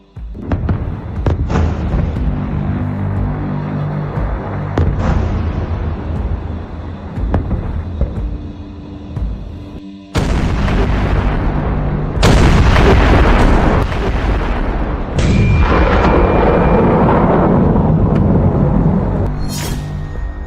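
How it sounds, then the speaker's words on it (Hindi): Heavy, continuous blasts of bombs and artillery shells in the Iran war roar close and loud, with several sharp new detonations breaking over a sustained rumbling din. "बरस रहा बम गोला बारूद।"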